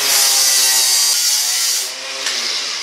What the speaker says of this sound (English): What I want to do is cut that off. Maybe I'll do that with the grinder.